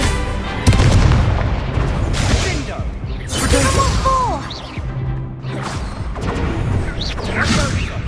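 Hogwarts Legacy combat with Levioso and Incendio spells: booming blasts, whooshes and crashing impacts in a loud, busy flurry, with spoken voices mixed in among the effects.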